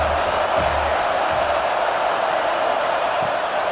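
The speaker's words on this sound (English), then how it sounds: "how nice is it to have the home crowd going absolutely bananas?" A home crowd at a South Carolina college football game in a video game, hosting NC State, cheers in a loud, continuous roar that swells slightly and holds steady without pause.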